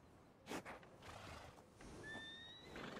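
A horse in the video game Red Dead Redemption 2 gives a short whinny, faint and brief, over quiet ambient game sound with a soft high tone near the end.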